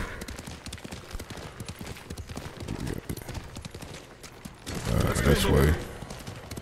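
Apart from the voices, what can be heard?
horse galloping in video game Ghost of Tsushima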